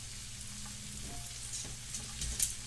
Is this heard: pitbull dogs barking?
no